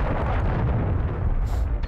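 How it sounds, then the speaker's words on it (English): A cruise missile explodes in Call of Duty MW3 ranked multiplayer, a loud, sustained rumbling blast that fills the whole moment and slowly tails off. "Friendly cruise missile approaching target."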